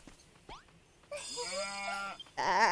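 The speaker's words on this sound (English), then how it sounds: "I found two more sheep, correction." A sheep bleats in Dragon Quest Builders 2, a long wavering cartoonish baa followed by a second higher, shakier bleat, close and clear with small game sounds before them.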